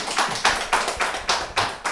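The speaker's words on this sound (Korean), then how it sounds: "감사의 박수를 다시 한번 부탁드립니다" Brisk rhythmic clapping closes a history lecture in Seosan, a close, even train of sharp claps at a quick steady beat that fills the moment without any talking.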